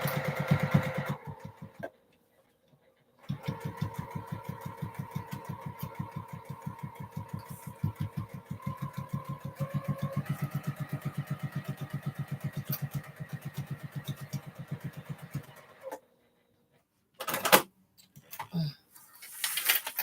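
A sewing machine running close and loud in one long steady burst of rapid, even stitching on fabric. A brief start at the opening and a short stop-start near the end bracket a quiet pause.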